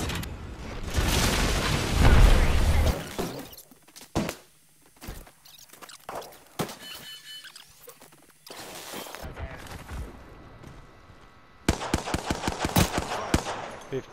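Gunfire from an Apex Legends battle royale match in a duos game: loud bursts of rapid automatic fire open the clip, followed by scattered single shots and thumps, then another close volley of rapid shots at the end.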